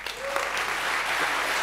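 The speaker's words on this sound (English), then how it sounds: "Round of applause, please." A conference audience at a Python lightning talks session gives a speaker a round of applause, a steady, moderately loud wash of clapping with a brief faint voice near the start.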